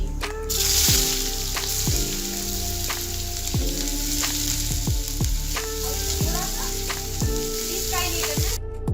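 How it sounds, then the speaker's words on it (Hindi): Loud, steady sizzling of chopped onions frying in hot oil with cumin, with regular scraping strokes of stirring throughout. "अब मैं इसमें कटे हुए प्याज डालूंगी।"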